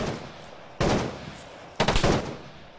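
Gunfire in the video game Arma 3 at night: two separate loud bursts of rapid automatic shots, each lasting about half a second to a second, with quieter ambience between them and no speech.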